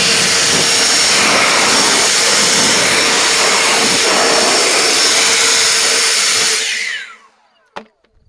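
Compressed air blasting inside a Frontier OS27 mill, a loud, continuous hissing rush that holds steady for several seconds, then tapers off and is followed by a small clunk, with no talk.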